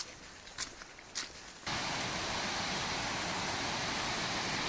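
Long Creek Falls, a waterfall on the Appalachian Trail, gives a steady broadband roar that swells in abruptly after a quieter stretch of trail ambience with a couple of faint scuffs, then holds loud and constant.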